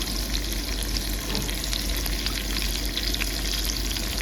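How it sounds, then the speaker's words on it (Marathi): Garlic and curry leaves dropped into hot oil give a dense, loud, steady sizzle and crackle that fills the whole short stretch, with no voices. "आता हे तेल गरम करत ठेवलंय आहे आता त्यात मी लसूण टाकते आहे कढीपत्ता"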